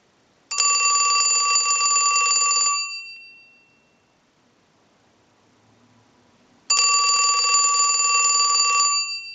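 A Snoopy and Woodstock novelty telephone rings, driven by a ring cycle sent from a line analyzer: two loud, bright bursts of bell ringing, each about two seconds long, separated by a pause of near silence.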